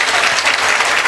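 Audience applause at a mushaira poetry recital in Jhansi, a dense, steady burst of many hands clapping together, loud and close, filling the short moment without voices.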